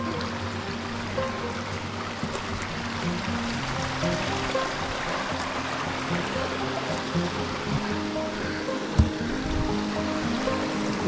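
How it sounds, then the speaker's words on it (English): A bush stream runs toward Ralphs Falls in Tasmania, a steady broad rush of flowing water with no pauses, fairly close and continuous, with one brief knock partway through. "This is the main stream leading to the falls, which is only not far from here."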